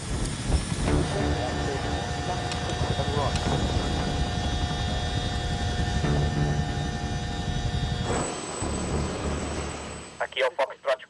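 A light aircraft engine drones steadily and evenly during pre-flight checks and taxiing, holding a constant tone for most of the clip before fading, with a few brief sharp sounds near the end.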